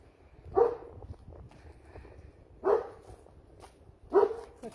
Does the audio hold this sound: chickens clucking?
no